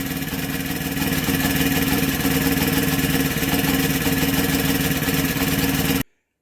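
A Honda EM500 portable generator engine runs steadily, with a loud, close, buzzing small-engine drone and a slightly uneven pulse, then cuts out abruptly near the end.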